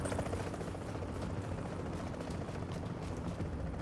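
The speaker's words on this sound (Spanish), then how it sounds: "Oigo un helicóptero muy cerca." A helicopter close by in the video game The Division, a steady dense rotor rumble holding at an even, loud level throughout with no pauses.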